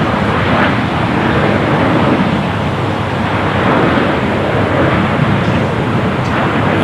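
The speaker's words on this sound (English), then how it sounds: "Flight coming in from Chicago." Airliner arriving to land at Los Angeles International Airport, a loud, steady broadband engine roar and rushing air that holds constant throughout with no talk over it.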